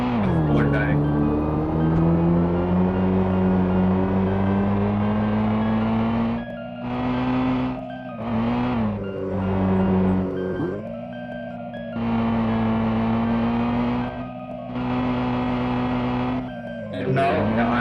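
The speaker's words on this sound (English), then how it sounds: "So you can listen to the sounds, right? So I have a car here, and if I press forward button, it will move forward directly." A car engine in a Unity video game hums with a steady synthetic tone as the car drives forward, dropping out and returning several times while someone talks over it.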